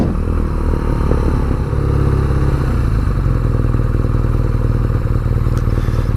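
A 2017 BMW R nineT Urban G/S motorcycle idling close by, its boxer twin giving a steady, loud, throbbing rumble with a slight rise in revs, heard alone without talk.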